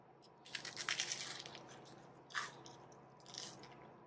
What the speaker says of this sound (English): Just listen to that crunch.